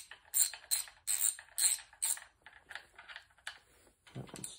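A socket ratchet tightens bolts on the rear main seal cap of a Mopar 440 V8 engine during a rebuild, giving several loud bursts of rapid clicking up close, then slower, fainter ratcheting strokes.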